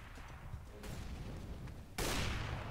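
CS:GO gameplay gunfire: a sustained rattle of shots that ends in a sharp, louder burst near the end, close and dense, with a voice faintly underneath.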